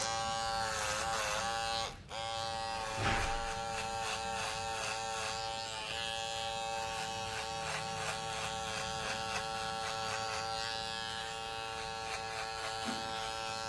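Electric hair clippers set to zero gap buzz steadily close by while fading hair, a constant high-pitched drone with a brief click and dip early on, no talking.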